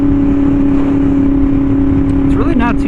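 A Yamaha R1M motorcycle fitted with an SC Project exhaust cruises at a steady drone, close and loud, with a brief rising rev swell near the end.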